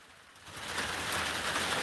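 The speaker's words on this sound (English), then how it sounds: "it's raining and looks nasty" Rain falling outside a house, a soft, faint wash that swells after the first half-second and then hisses on steadily with no voices.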